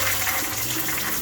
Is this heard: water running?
yes